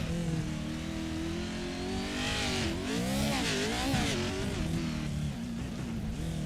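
Pro 4 short-course race truck in iRacing, a Lucas Oil off-road course, roaring close and loud as it lands off a jump and powers off the corner, revs rising and falling with tire scrub, no talking.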